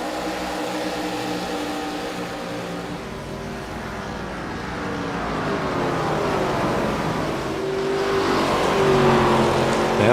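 ARCA stock race cars roar around the Richmond oval, with a continuous loud engine drone that swells and shifts in pitch as cars close in and sweep past nearby.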